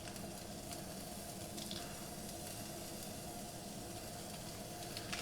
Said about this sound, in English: Go ahead and add our chorizo to the pan.